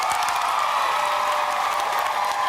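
Theatre audience at a Harry Potter and the Cursed Child stage show in Melbourne bursting into loud applause with cheers and whoops, a dense, continuous roar of clapping from a large crowd.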